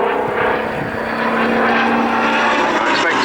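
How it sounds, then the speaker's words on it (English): A Hawker Sea Fury, a powerful radial-engine piston fighter, flying at an RAF Cosford airshow, giving a loud, steady propeller drone with a sustained engine hum that swells slightly toward the end. "This was supposed to be a lightweight but very powerful radial engine fighter"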